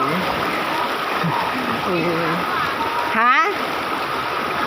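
River water streams steadily over rocks at Mat-e River in Abuyog, Leyte, a continuous close rushing wash with people talking and calling out over it.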